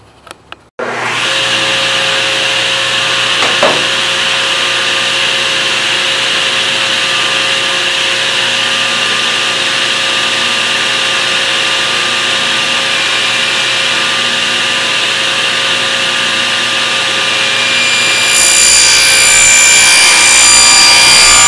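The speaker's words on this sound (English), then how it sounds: "bandsaw did a pretty good job of cutting those out" A bandsaw starts up and cuts wood for cabinet drawers, a loud, steady whining hum with a rasping blade noise that holds evenly for about twenty seconds after a sharp start, brightening slightly near the end.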